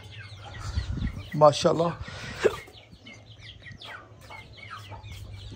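Grown chicks kept at home give a few short, soft cheeps and clucks, fairly close, while someone talks over a low steady hum.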